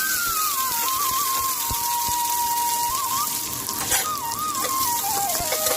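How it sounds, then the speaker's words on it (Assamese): Onions frying with ginger garlic paste in a pan make a continuous hiss and sizzle, overlaid by a steady, wavering whistle-like tone in the background. "এতিয়া পিঁয়াজখিনি লগাই অকণমান লৰাই ভাজি থাকিম"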